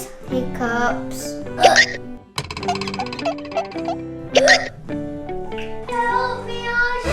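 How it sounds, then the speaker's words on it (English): A child's hiccups during pretend play, several sharp catchy bursts at irregular moments mixed in with music and a young voice talking. "This hiccups."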